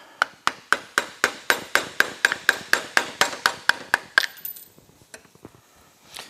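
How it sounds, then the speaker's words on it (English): Sharp metallic taps ring out in a fast, steady series of about sixteen strikes while the outer plate is pried off an O-ring motorcycle chain on a Honda CBR, then a few sparser, quieter taps follow. "Alright, let's pry that outer plate off."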